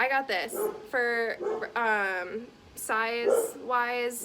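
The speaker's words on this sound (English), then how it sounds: "Sorry about my dogs." Several dogs bark, yip and whimper in repeated short, high calls close by, overlapping a person talking at a backyard pool.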